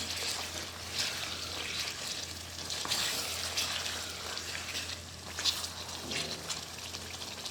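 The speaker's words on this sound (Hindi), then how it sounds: "इसलिए आपने चिकन को भूनते जाना है।" Chicken sizzles in a pan while being fried down for aloo chicken curry, a steady crackling hiss with occasional louder pops and a low background hum, close and continuous with no talking.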